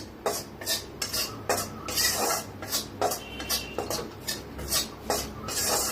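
Masala being dry-roasted in a pan for stuffed capsicum, with a spoon scraping and stirring in a steady rhythm of rasping strokes, close and fairly loud with no talk.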